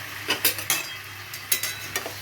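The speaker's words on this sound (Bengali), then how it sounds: "এবারে চিকেনটাকে আমি ভেজে নেব। চিকেনটাকে নুন দিয়ে ভেজে নেব।" Chicken frying with salt in a pan, a low steady sizzle under repeated clinks and scrapes of a utensil stirring against the pan, close by.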